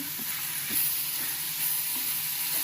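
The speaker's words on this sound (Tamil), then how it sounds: "தக்காளியில் நல்லா வத்தலும் சேர்ந்து நல்லா வதங்கணும்." Dried red chillies and tomato fry in a pan for a curry leaf chutney with a steady close sizzle and hiss, plus faint stirring clicks.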